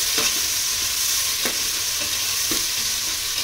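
Chicken biryani masala sizzles steadily in a pan, with a few sharp scrapes of a spoon stirring it at irregular intervals and no talking.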